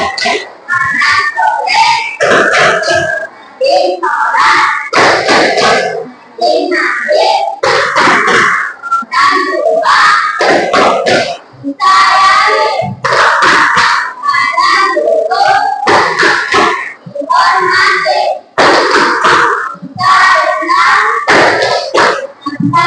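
A group clapping through the 'tepuk anak soleh' chant, rhythmic bursts of hand claps in patterned sequences with short pauses, mixed with children's chanting voices, loud and close throughout.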